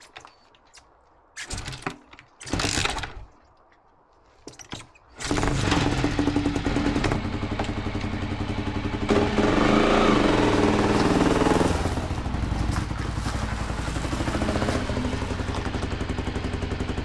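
A motorcycle engine, just back together after a stuck-clutch repair, clatters through a few short bursts and then catches, running loud and steady at close range for over ten seconds.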